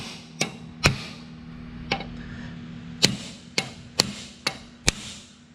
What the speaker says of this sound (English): grab the handy dandy hammer, and I'm just going to beat them down